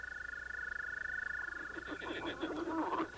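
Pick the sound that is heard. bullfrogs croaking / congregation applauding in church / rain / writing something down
bullfrogs croaking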